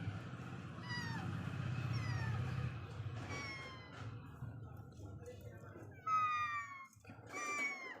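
A voice imitates a kitten's mewing with a series of short, high, rising meows, some in quick bursts, over a low background rumble.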